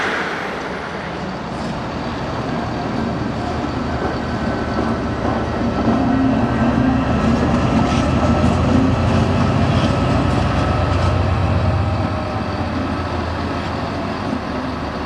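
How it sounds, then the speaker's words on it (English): An LNER Azuma train on the London King's Cross service rolls through Doncaster station with a steady, loud rumble and faint rail clatter that swells slightly midway. No voices are heard. "the 1827 LNER Azuma service to London King's Cross"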